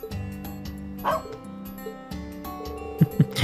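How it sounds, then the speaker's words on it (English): A dog in the video game Trails of Cold Steel 3 gives a few short yips and barks over soft game music, the sharpest barks landing near the end. "You're quite the talented little doggy now, aren't you?"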